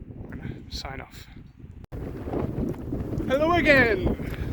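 Strong mountain wind on Sgurr Dearg buffets a microphone with low roaring gusts, rising toward the end, while a voice speaks briefly over it.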